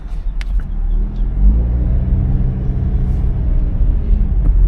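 A car engine rumbles low and steady during a Florida driving-test manoeuvre, with a smooth tonal hum that rises slightly as the vehicle pulls away; close and fairly loud, no speech.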